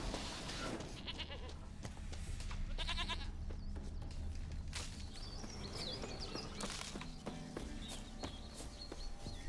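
A goat bleats repeatedly in The Witcher 3, nasal wavering calls up close amid footsteps, rustling and ambient game sounds, with no talking.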